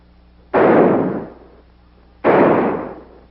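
Two heavy gunshots from a large gun in an old Hollywood film, each a loud, sharp blast with a long booming decay, fired about two seconds apart with no talking.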